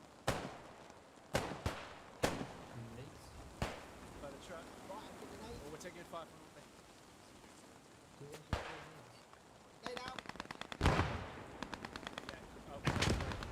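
Rapid machine-gun bursts and sharp rifle cracks punctuate a grenade blast in a Post Scriptum WWII battle at a bridge, the shots near and far, with a brief burst of loud automatic fire near the end.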